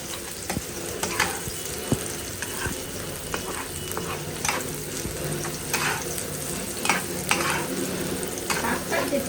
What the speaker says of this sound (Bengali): ভাজা ভাজা করে ফেলতে হয় ভাজা ভাজা করলে আর পানি বেরোবে না